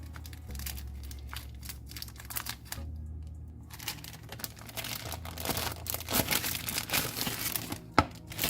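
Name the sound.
opening a plastic packet of spring roll sheets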